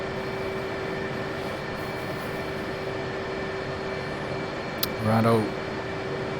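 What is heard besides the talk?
aircraft engine running in a flight simulator video game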